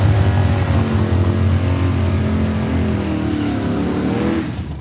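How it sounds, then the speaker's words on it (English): A drag race car at a raceway in Saskatoon revs loud and steady while warming up its rear tires, a continuous roaring engine drone holding close for the whole span before easing slightly at the end. "that's Travis McBain warming up the rear tires"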